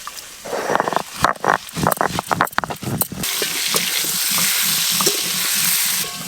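Dry red chillies hit hot oil in a home kitchen, crackling in sharp bursts that settle into a loud, steady sizzle, with occasional stirring sounds over the top.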